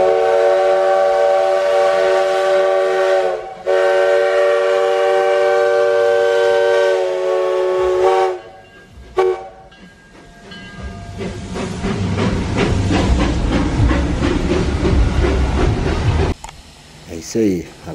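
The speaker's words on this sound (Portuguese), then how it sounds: "O trem da Via Permanente parado aqui." Maria Fumaça steam locomotive no. 68 stands idling on the Estrada de Ferro Oeste Minas, a long loud steam whistle blast giving way to sharp bursts and a strong, steady hiss of escaping steam.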